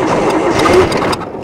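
Engine of a 1949 Dodge pickup, abandoned in the desert for decades, cranking over and revving up, loud and close with a rough mid-range roar that drops off near the end.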